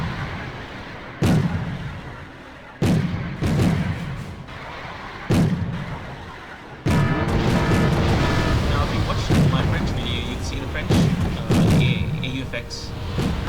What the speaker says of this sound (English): AUFX fires about 5-6 shots really in rapid succession.